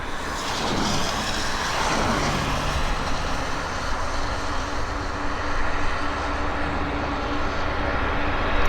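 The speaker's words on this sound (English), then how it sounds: "U.S. Air Force 767 air-to-air refueler." A U.S. Air Force 767 air-to-air refueler comes in to land, its jet engines giving a steady, loud, broadband roar that holds for the whole stretch with a low rumble underneath and no one talking.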